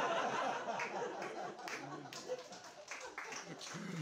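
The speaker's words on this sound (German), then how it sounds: "trauriger Applaus" Thin, subdued applause from a stand-up comedy audience, scattered claps with some murmuring and chuckles, steady and fairly distant.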